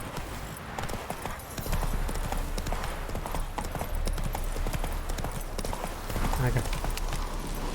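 Roach the horse trotting in The Witcher 3, steady close clip-clop hoofbeats with game ambience, while someone speaks briefly over them.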